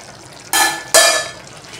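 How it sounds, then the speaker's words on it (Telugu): Rice being stirred in a pot while chicken fry rice cooks: two short, bright scraping swishes of grains against the pot, close and moderately loud, over quiet background. "ఇంకా రైస్ ఒకసారి కలుపుకుందామండి."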